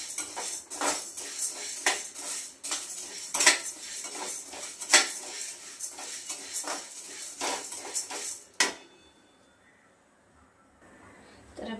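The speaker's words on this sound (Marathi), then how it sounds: "एकसारखी हलवतच आपल्याला हे भाजून घ्यायचे." Chana dal stirred while roasting in a pan on a high flame, with repeated close scraping and metal clinks of a spoon against the pan that stop abruptly near the end, leaving a faint hush.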